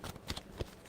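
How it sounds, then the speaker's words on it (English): A deck of tarot cards is shuffled in a quick, faint burst of riffling and soft slaps, close and brief. "Give me 2 shuffles for Libra, please and thank you."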